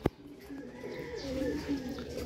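Low, throaty pigeon cooing rolls on steadily for a couple of seconds after a brief click, fairly close with soft background noise.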